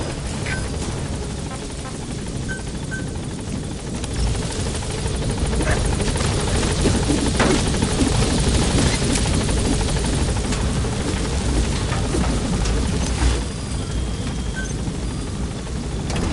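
Pequod support helicopter from Metal Gear Solid V arriving at a landing zone, its loud rotor thump and engine roar filling the scene steadily throughout, with faint in-game radio voices under it.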